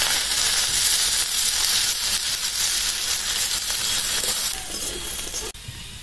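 Sliced onion dropped into hot oil with a bay leaf, dried red chilli and cumin, cooking for a Bengali pabda fish and vegetable curry, gives a loud, steady close hiss and sizzle that drops off sharply near the end.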